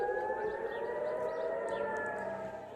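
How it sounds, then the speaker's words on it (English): A wailing air raid siren in Israel during missile attacks from Iran drones steadily, its rising and falling tone sustained loud and continuous throughout, with no voices. "air raid sirens have been heard across Israel."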